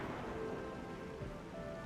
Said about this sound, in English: It's raining harder. I can't hear anything except for the rain.